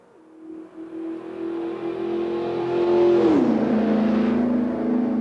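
A modded car without turbo in a racing video game revs up, its engine tone climbing steadily and loudly, then dropping in pitch after a gear change before holding a sustained drone, with no talking.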